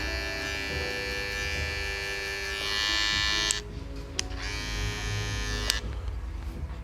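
Electric hair clippers fitted with a half guard buzz steadily and close up while polishing a low fade on curly hair, the hum shifting in pitch as the blade meets the hair, with a few brief clicks near the end.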